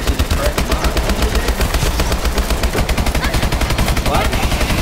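Rapid automatic gunfire in a Call of Duty: Advanced Warfare zombies match, dense continuous bursts of shots filling the whole stretch, loud and close, with a bit of game chatter faintly underneath.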